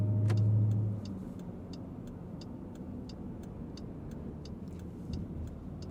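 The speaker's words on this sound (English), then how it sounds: "Now back to some daily driving basics. Things like the turn signal sound," Steady, evenly spaced clicks of a 2025 Dodge Durango Hellcat's turn signal ticking over a low engine hum inside the car.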